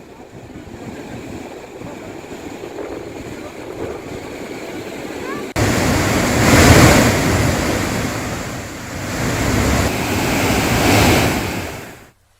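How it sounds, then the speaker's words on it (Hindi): Water pours out through eleven opened gates of Bargi dam, a loud, steady roar of rushing water with wind buffeting the microphone, growing fuller and heavier midway and then cutting off. "अब 11 गेटों से ही पानी की निकासी हो रही है।"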